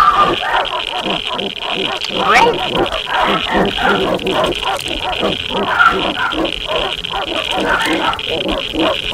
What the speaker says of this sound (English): Yeah, that's our dog.